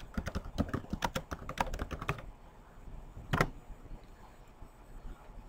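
Quick, close keystrokes clatter as a command is typed on a computer keyboard for about two seconds, then stop, followed by a single louder key press and quiet room noise.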